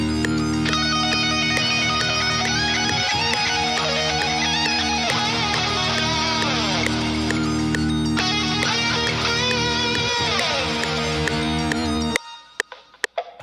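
A guitar lead plays along with a track, its bright melodic line sitting over a dense, loud beat with steady rhythmic hits, the full mix cutting out abruptly near the end.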